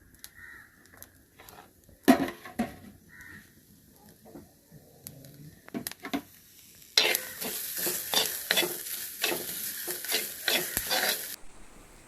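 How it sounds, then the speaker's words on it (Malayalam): Coconut with curry leaves and garlic dry-roasting in a pan without oil for a shark curry, heard as intermittent scraping stirs and clinks that give way to a steady, close crackling sizzle in the latter half; no one speaks. "എന്നിട്ട് നന്നായിട്ട് ഒന്ന് മൂപ്പിച്ച് ആദ്യം എണ്ണ ചേർക്കാണ്ട് ഒന്ന് വറുത്തെടുക്കുക."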